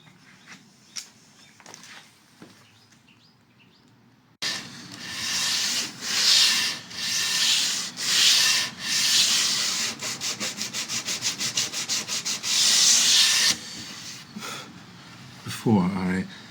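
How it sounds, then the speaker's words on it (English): Hand sanding softens the sharp edges of a wooden drafting table top: a long run of rough, rhythmic rubbing strokes, steady at first, then quicker and shorter, after a quiet stretch with a few soft knocks. "I'm just going around every edge, which is somewhat sharp, and just softening it by hand."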